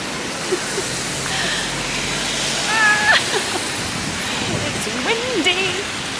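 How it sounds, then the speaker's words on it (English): Steady rain hisses on a London street in Shoreditch, a constant wash of noise with faint birdlike chirps and distant city sounds scattered through it, and no clear speech. "And it's raining."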